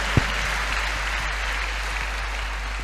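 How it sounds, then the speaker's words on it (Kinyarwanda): Church congregation applauding during a sermon, a steady wash of clapping held at even loudness throughout, with one sharper clap standing out near the start. "Reka tumwongera amashyi uwo mwami w'abantu"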